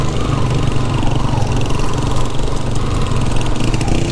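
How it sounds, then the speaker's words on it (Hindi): A motorbike carrying three riders climbs a hill in Swat's Utror and Gabral valleys, its engine droning steadily and loudly throughout with no talk over it. "ये जी एक बाइक पे 3 बंदे जा रहे हैं"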